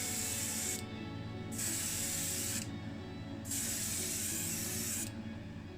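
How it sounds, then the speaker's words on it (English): An airbrush sprays premixed blue premium paint onto a Matchbox Site Hut Truck No.60 model, three bursts of steady hiss with short pauses between them, each lasting around a second, close and fairly quiet. "So this is an airbrush paint, goes straight into the airbrush."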